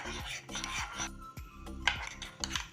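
Spoon clinking and scraping against a bowl while black pepper and chili flakes are whisked into a salad dressing, a quick repeated rhythm of small metallic taps and rubs, close and fairly quiet.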